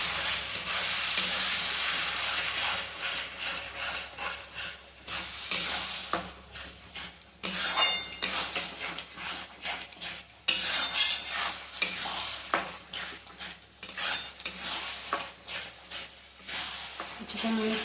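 Spices, ginger-garlic paste and tomato paste stir-fry for a Bengali mutton curry with potatoes, a loud hissing sizzle pulsing with repeated spatula strokes that scrape in rhythmic bursts over several seconds while a voice speaks intermittently.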